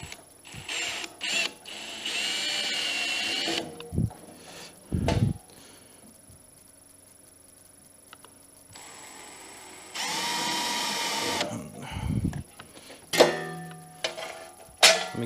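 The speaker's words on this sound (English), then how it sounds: "step drill always makes life easy drilling into sheet metal." Milwaukee Fuel cordless drill with a step bit boring through sheet metal: several loud, grinding bursts of a few seconds each, separated by short pauses and quieter handling noise.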